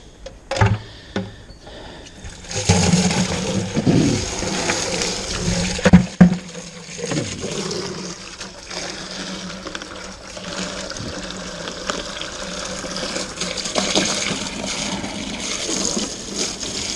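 Tap water runs steadily to rinse home beer-brewing equipment, a continuous close splashing flow that carries on for many seconds after a few knocks and clatters at the start, with nobody speaking.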